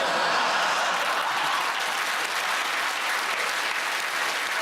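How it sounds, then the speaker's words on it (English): Loud, sustained applause from a large studio audience at a comedy panel show, dense clapping that holds steady for several seconds without letting up. "that round of applause"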